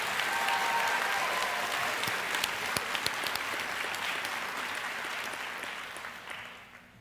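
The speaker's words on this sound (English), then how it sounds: "if we could we just have another round of applause for our graduates tonight" An audience at the 2026 Edgecombe Early College High School graduation applauds the graduates, a dense crowd clapping that stays steady and then tapers off toward the end, with no one speaking over it.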